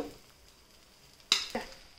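Sabudana and peanuts being stirred in a frying pan: a quiet low sizzle, then two sharp scraping stirs in quick succession near the end, close and clear with no talking.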